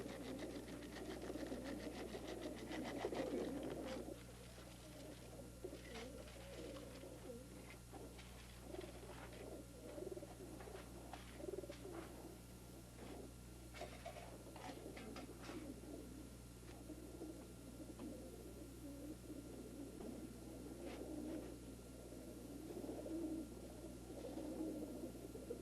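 Racing pigeons coo softly and repeatedly inside a loft, their low rolling calls coming in bursts over a steady mechanical hum.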